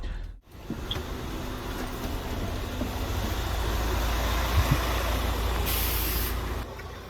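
A tour bus rolling along Penny Lane in Liverpool, its steady low engine rumble filling the ride, with a brief sharp air-brake hiss near the end and a faint high whine.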